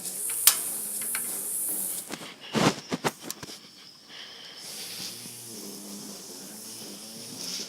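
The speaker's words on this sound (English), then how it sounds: "I've got my outside griller here, so we're going to start this up" An outdoor grill starting up for smoking ribs, with a hissing rush of gas or air, a cluster of sharp clicks and bursts near the middle, then a steady low hiss settling in, close by with no talk.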